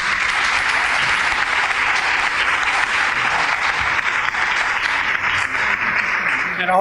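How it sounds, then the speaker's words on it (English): A roundtable audience claps for the panelists on New Jersey solar policy, a full, even round of applause that holds steady for several seconds with a faint voice underneath. "Let's give a round of applause to our panelists here."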